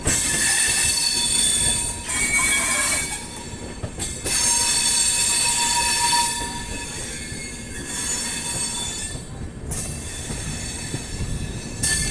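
Rajdhani Express train running in parallel with a Puri–Anand Vihar Terminal express near Ghaziabad, heard from on board as a loud, continuous rumble with squealing wheels and rail clatter, no talking.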